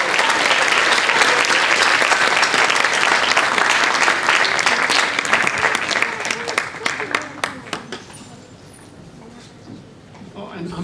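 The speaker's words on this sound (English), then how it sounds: "Let's give a round of applause for those 2 fine professionals." Audience applause at a middle school band concert, a full, loud burst of clapping from a crowded hall that gradually thins into scattered individual claps before fading near the end.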